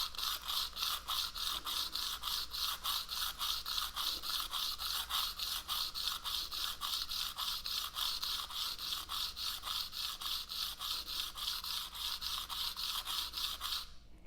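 Broadhead arrow blade being sharpened with quick, evenly paced back-and-forth swipes, a close rhythmic rasping scrape that continues steadily and alone for many strokes.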